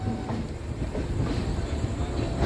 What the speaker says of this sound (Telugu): సిగ్నల్ వచ్చేసింది, బయలుదేరిపోతున్నాం విజయవాడ జంక్షన్ రైల్వే స్టేషన్ నుంచి.